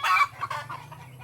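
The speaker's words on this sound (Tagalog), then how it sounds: "daming mga manok talaga" Chickens cluck near a garden of vegetable plants, a short burst of clucking with a sharp first call followed by softer, fading clucks, moderately close and without talk.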